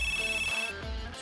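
Mobile phone ringtone sounding over a busy background, a sustained bright electronic tone with layered musical notes that fades after a moment, fairly close and loud.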